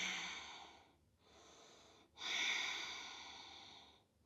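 A person breathing during a yoga flow session: three slow, close airy exhalations, the last longest and loudest, separated by brief pauses, with no talking.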